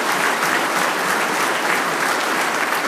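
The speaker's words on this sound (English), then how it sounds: "Let's take a nice round of applause for all of us for standing up." A conference audience at a building trades legislative gathering claps steadily, a dense, even wash of applause from many hands that holds at a constant level, heard without any speech over it.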